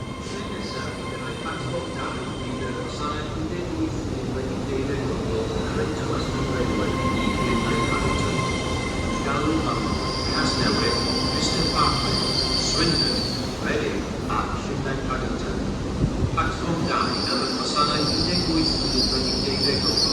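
A GWR Class 800 train pulls into Cardiff Central, terminating from London Paddington, with steady rumbling rolling stock, loud wheel squeal and high brake whines, and faint platform voices underneath.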